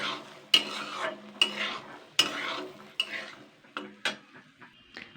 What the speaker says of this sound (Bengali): এইগুলো সেমভাবে কিন্তু আমি সুন্দর করে ভাজা করে ফ্রাই করে নেব ওই 5 মিনিট ধরে।